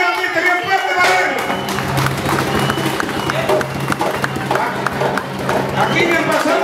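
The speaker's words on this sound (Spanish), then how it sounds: "¡El aplauso nuevamente bien fuerte para él!" Loud applause for a speaker at a Peruvian community anniversary celebration in Southern California, dense clapping from a close crowd that carries on steadily, with voices and murmuring mixed in.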